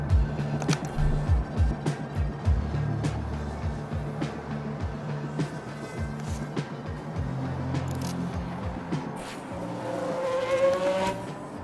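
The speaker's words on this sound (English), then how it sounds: "I think there's been a lockup." Racing cars in F1 Manager 22 at Bahrain roar past with loud buzzing engines, and a rising squeal from a tyre locking up under braking comes near the end.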